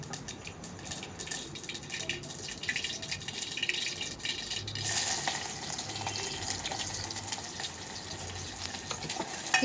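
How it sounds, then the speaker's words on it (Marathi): Dal tempering crackles in hot oil in a home kitchen, a steady bright sizzle that grows louder and denser about halfway through, with faint rattling and no talking. "मी आता वरणाला फोडणी घालून देते"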